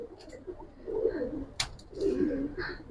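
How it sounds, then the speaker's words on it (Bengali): A young female pigeon coos in soft, rolling phrases with short pauses, close by, with faint extra chirps and no talk. "এটা মাদি কবুতরটা ভাই একদম ইয়াং কবুতর ভাই"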